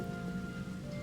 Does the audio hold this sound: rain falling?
yes